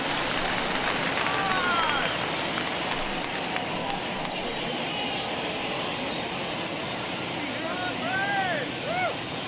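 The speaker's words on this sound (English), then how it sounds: "the home crowd seems a little restless" Home crowd at a World Series baseball game in a stadium, a dense steady roar of murmuring spectators with scattered whistles, under a commentator's voice.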